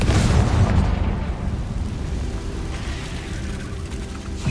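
Confringo explosive spell blast from Hogwarts Legacy: a loud, rumbling boom that hits at once and rolls on as a dense, sustained low roar with crackling debris, fading slightly toward the end.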